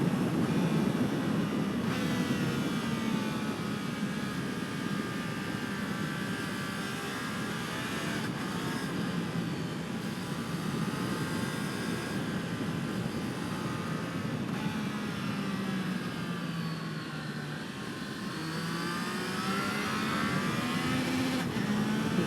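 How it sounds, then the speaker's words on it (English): A Triumph Trident 660 motorcycle's engine is heard onboard on a twisty backcountry road, droning continuously as revs rise and fall through the corners. The exhaust note climbs in pitch under steady wind noise. "it's such a great experience to hear that bike"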